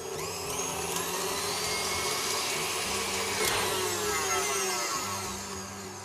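An electric mixer runs on high, beating a cake lace mixture with a steady, close whirring drone that stays at an even loudness throughout, with no speech.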